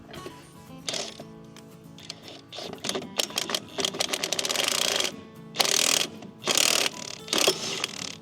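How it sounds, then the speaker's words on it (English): Tools working on the flywheel of a Terramite backhoe engine in a garage during stator replacement: bursts of rapid ratcheting and whirring of a power tool, loud and close, separated by short pauses and metallic clicks. "flywheel just popped off just like that"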